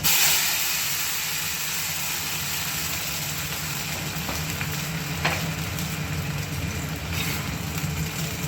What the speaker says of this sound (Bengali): এবার দেখো সবজিটা ঢেলে দিচ্ছি